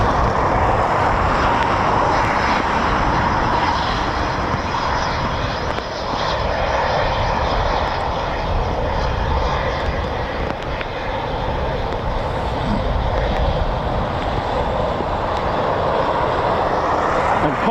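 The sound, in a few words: Eurofighter Typhoon FGR4 jet landing at RAF Coningsby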